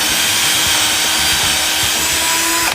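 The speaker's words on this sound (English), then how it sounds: "just put a block back there, hold it, keep your finger out of the way, and drill that through" A power drill whines loudly and continuously as it bites through a wooden drawer front into a backing block, a close, grinding drone lasting a few seconds.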